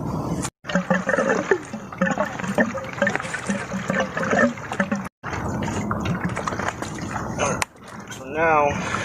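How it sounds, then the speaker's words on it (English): Water running and splashing as it drains out of a pool pump during a pump replacement, a steady trickling gush that cuts out briefly in places, heard up close under ongoing talk. "I'm going to let some water out too,"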